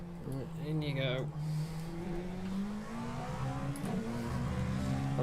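A Peugeot 205 race car lapping Spa in a racing video game, its engine note climbing steadily through the revs, loud and close, with a brief dip before the pitch rises again.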